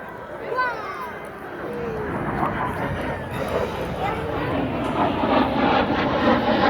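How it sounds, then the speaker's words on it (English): An L-39 jet trainer passes overhead at an air show, a broad rising engine roar that swells and holds steadily through the clip while people talk nearby. "Here comes the jet."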